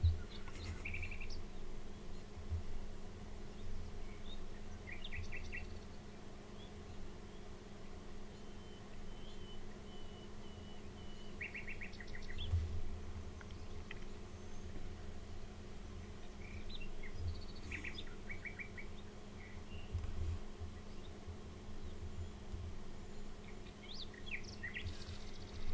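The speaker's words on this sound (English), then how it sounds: "I was feeling like listening birds." Birds chirp and sing in scattered short calls over a steady low outdoor hum, faint and distant, with no speech.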